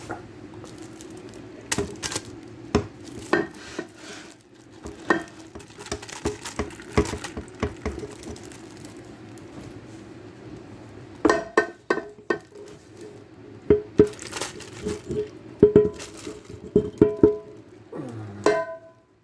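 Chunks of stew meat dropped into a slow cooker for chili taco soup, a series of soft, wet thumps and pattering plops in irregular bursts, close by, with no talking.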